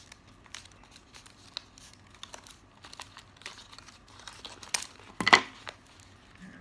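Scissors snip through folded paper to cut a five-point star, producing quiet, scattered crinkles and soft cuts with a sharper, louder snip near the end.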